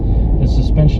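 A 2021 Ford Bronco Big Bend cruising at about 55 mph, its steady low road and engine rumble filling the cabin continuously beneath a person talking.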